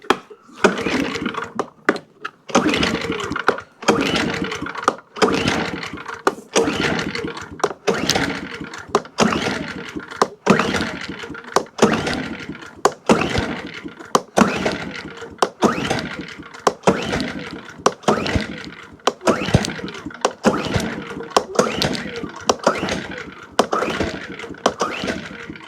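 Westinghouse iGen2550c generator that has sat for a year being pull-started repeatedly without catching: a long series of sharp recoil-cord rasps with brief cranking bursts, evenly spaced and close, with no running engine.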